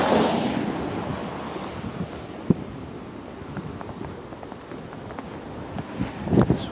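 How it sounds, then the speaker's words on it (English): Wind sweeps through a lake effect snowstorm in Brooklyn, New York, as a steady, rushing roar with gusty swells and rumbling buffeting against the microphone, with no voices. "it would be easier to see how fast the snow is blowing because of the wind"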